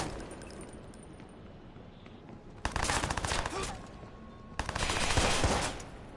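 Video game gunfire rattles out in two sustained automatic bursts, each lasting around a second, separated by a quieter stretch of faint background noise.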